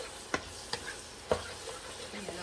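Mushrooms are stir-fried in a pan over high heat, a low, steady sizzle broken by a few sharp scrapes and taps of a utensil against the pan, fairly faint and close by.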